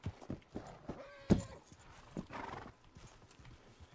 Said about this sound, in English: Goddamn horse.